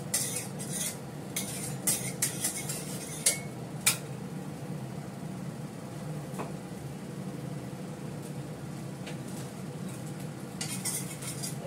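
Vegetable curry cooking in mustard oil in a pan, a soft continuous sizzle under repeated scraping and clinking of a metal spoon stirring against the pot, with no talking.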